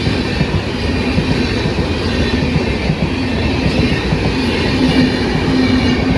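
The Saurashtra Express at a railway station gives off a loud, continuous low rumble with a steady hum and rolling rattle throughout, close by and with no voices.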